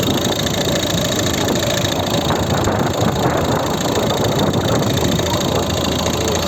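A steady, rough engine idle rumbles loudly and continuously up close, with a clattering, knocking texture from the warmed-up 1.6 diesel of a 2011 Volvo V50 facelift.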